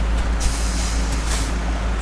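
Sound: air brake hiss on a timber trailer truck

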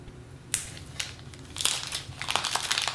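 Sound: unwrapping a plastic pouch with manual and cable

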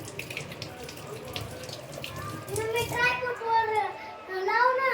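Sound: washing small cucumbers under running tap water

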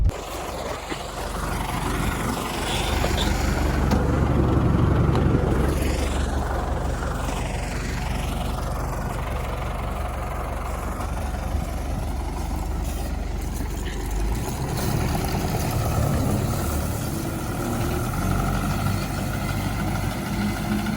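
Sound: tractor engine running

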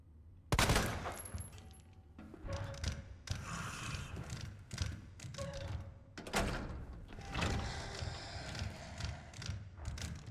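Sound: gunshots in video game Resident Evil 2 Remake

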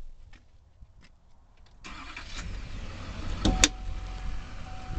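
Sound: diesel pickup truck engine starting

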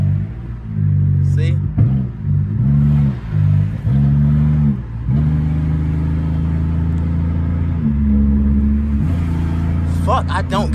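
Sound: Pontiac Grand Prix GT engine accelerating while driving

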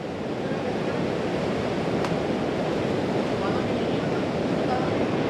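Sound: ocean waves at Melasti Beach

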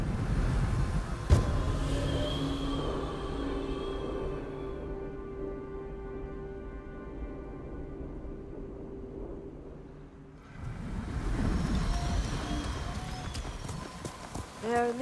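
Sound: horse riding in the video game Ghost of Tsushima

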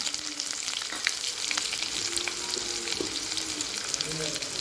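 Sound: shallots and red chillies sautéing in a pan

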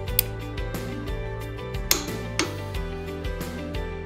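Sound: HYTORC clicker torque wrench clicking

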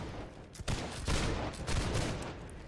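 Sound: musket volley gunfire in video game Holdfast

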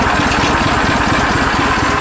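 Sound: Sears Suburban tractor engine starting and idling

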